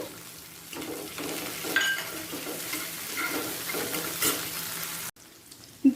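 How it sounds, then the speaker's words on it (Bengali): Chopped tomato and green chili frying in oil in a pan for a birthday thali meal, with a steady sizzle, stirring and occasional utensil clinks on the pan, close and moderately loud, ending in a brief pause and a clatter. "একই তেলেতে দিয়ে দেব টমেটো কুচি কাঁচা লঙ্কা কুচি"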